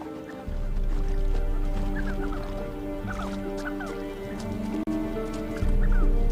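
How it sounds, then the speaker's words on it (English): A flock of sandgrouse gathers at a standing-water pool in the Sahara, giving repeated short calls over a steady, loud low hum. "Elegant flocks of sandgrouse will take advantage of any standing water."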